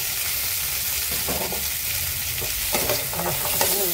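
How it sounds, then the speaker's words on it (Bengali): Potatoes, cauliflower and green peas frying in a wok, a continuous close sizzle broken by several scraping stirs, with no talking. "আলু আর ফুলকপিটা দেখো ভাজা হয়ে গেছে।"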